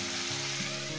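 Cauliflower frying in a pan gives a steady, close sizzle. The crackle runs without a break, with a low hum under it and no talking.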